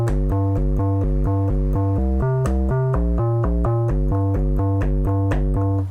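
MIDI keyboard played into Ableton, a loud rhythmic synth pattern of steady repeated chords stepping between pitches, heard alone without voices.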